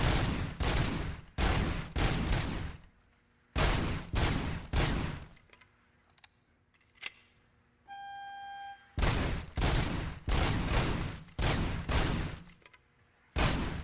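Bursts of automatic gunfire from the RoboCop: Rogue City game, loud rapid volleys separated by short pauses, with a brief electronic tone in one gap.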